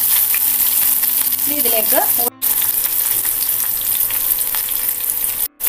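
Mustard seeds and sambar ingredients fry in a pan over low to medium flame for a Kerala sadya sambar, a steady loud sizzle with crackling throughout, briefly stirred, and a short spoken phrase at the start.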